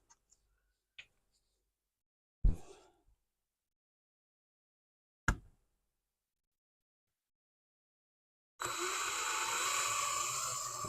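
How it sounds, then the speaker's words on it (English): Drill boring holes in a workpiece in a home workshop, the bit tipped in oil: a few isolated knocks and taps, then a sudden loud, steady whirring drill run lasting a couple of seconds. "When drilling these, I always like to just dip the end of the drill in a little bit of oil."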